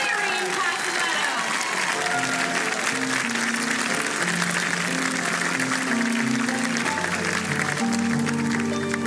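Audience applause at a Disneyland event honoring its first Disney Ambassador, a loud, dense, steady clapping from a large crowd throughout, with music and voices underneath.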